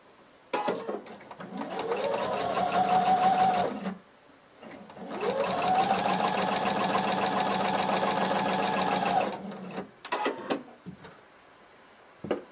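A sewing machine stitches close to the edge of fabric for a duster cardigan in two sustained runs, its fast rhythmic whir rising and settling, with light clicks and handling noises between and after the bursts.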